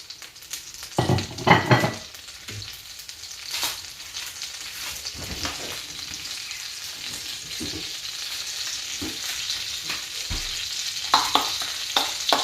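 Garlic frying in hot butter for homemade chicken cutlets: a steady, crackling sizzle that runs the whole time, with a few louder spatters and clinks near the start and end, and no voices.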